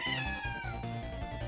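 A pet cat lets out a loud, drawn-out meow up close, with a second shorter cry following, over faint background music.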